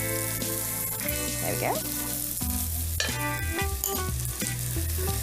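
Cleaned, drained jasmine rice tipped into a hot frying pan with herbs, sizzling loudly up close with scraping and stirring clatter and a brief spoken remark.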